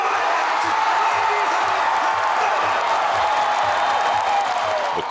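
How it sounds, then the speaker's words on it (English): A large indoor crowd at the Bassmaster Classic weigh-in roars and cheers continuously as a bass angler is crowned champion, a dense, loud wall of voices and whoops with no break. "The crowd goes wild as Randy Howell makes history"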